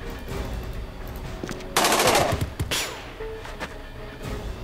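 Automatic gunfire in the turn-based game Jagged Alliance 2: a sharp, loud burst of rapid shots, followed by a second shorter burst, then scattered lighter hits and ambient battle noise.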